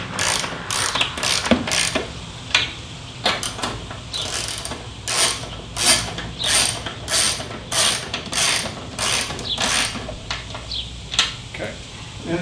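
Hand ratchet tightening the fairing bolts onto the forks of a Harley motorcycle, close and loud, with bursts of rapid clicking pawl strokes repeating in a steady rhythm for the whole stretch.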